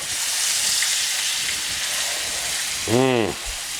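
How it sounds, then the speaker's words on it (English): Pork schnitzel sears in a hot pan with a loud, continuous close-up sizzle, and a short voiced sound cuts in near the end. "Now we're going to let these go for a little bit and finish up the sear"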